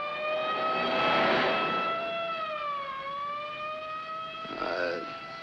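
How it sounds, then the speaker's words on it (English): An ambulance siren in a 1951 film wails steadily with a strong, harmonic-rich tone that slowly sags in pitch and rises again. It is loud and nearby, and a brief voice-like burst comes near the end. "It's an ambulance."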